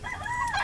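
A rooster crows in the Royal Detective video game, a single sustained, wavering call filling the short moment at steady, fairly loud level with no talk over it.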